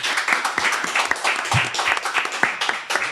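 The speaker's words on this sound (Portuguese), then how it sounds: "Uma salva de palmas para os meus convidados" An Angolan legal talk show's studio audience applauds the guests, with steady dense clapping filling the whole stretch and light voices underneath.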